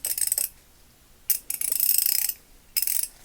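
A freshly serviced Craftsman ratchet, model 43176, clicks in three close, crisp bursts of rapid pawl ticks separated by short silences.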